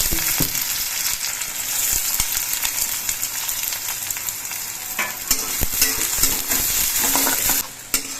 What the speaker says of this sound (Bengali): এবার এর মধ্যে আমি কোচানো পেঁয়াজগুলো দিচ্ছি